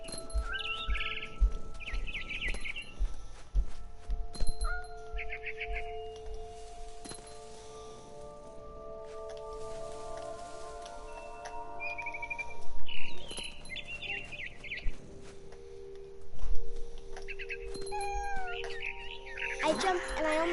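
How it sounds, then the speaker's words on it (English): Birdsong from a barn swallow in the video game What Remains of Edith Finch, with repeated short bright chirps and call bursts over a soft ambient game backdrop and tonal music, some calls rising louder near the end. "Then I heard chirping outside my window. It was a barn swallow going back to her nest."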